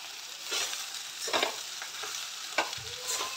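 Ridge gourd and satputiya hit a hot pan for a Jitiya Nahay Khay dish, producing a soft ongoing sizzle broken by several sharp stirring scrapes and clatters at close range, with no talk.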